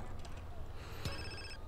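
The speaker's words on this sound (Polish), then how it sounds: "i znowu telefon" A phone rings in Grand Theft Auto: San Andreas, a short electronic ringtone rising clearly over steady game background noise and low rumbling near the end of the moment.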